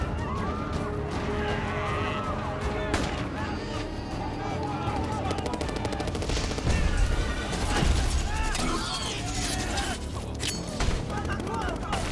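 Gunfire rattles through the Scorponok attack scene in a Transformers film. Dense volleys and crashes run throughout, mixed with urgent shouting voices and a heavy action soundtrack.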